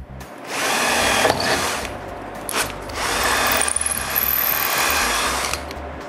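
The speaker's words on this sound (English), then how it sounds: "I use an impact driver for the first hinge." An impact driver drives screws through a door hinge into wood, whirring in close bursts with rattling, clicking hammering and short pauses between.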